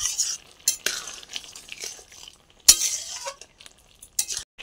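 A spoon stirs coconut paste into a bottle gourd curry in a pan, scattered scraping and clinking strokes with a faint sizzle, close and moderately loud.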